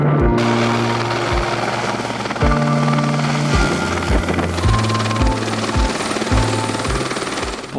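A helicopter carrying people up to a mountain refuge roars steadily and loudly throughout, its rotor thumping in a rapid, regular beat with a bright engine whine on top.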